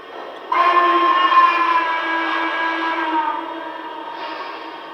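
A Lionel toy train whistle sounds loudly and steadily for several seconds, a bright reedy tone over a low hum, dipping slightly before the end.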